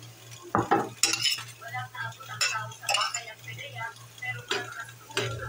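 Garlic frying in a pan toward golden brown as a topping, a soft steady sizzle under clinking and scraping of a utensil stirring against the pan, with a steady background hum and quiet talk.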